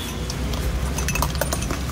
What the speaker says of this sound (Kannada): ನೋಡ್ತಾ ಇದ್ದೀರಲ್ಲ ಸೋಡಾ ಗೋಲಿ ಸೋಡಾ ಅನ್ನೋದು ಇದಕ್ಕೆ